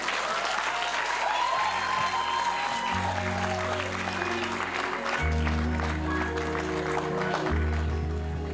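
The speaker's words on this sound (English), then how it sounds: "Another round of applause for Anela" Steady applause from a school audience at a Grade 7 farewell luncheon, a dense continuous clapping that fills the whole stretch with no pauses.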